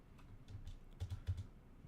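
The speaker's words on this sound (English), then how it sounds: "just like typing it out without it being in front of me" Typing on a computer keyboard while writing Python code, with quick irregular clusters of light key clicks close by and no talk.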